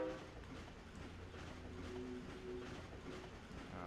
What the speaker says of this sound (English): So now we can move on through this train.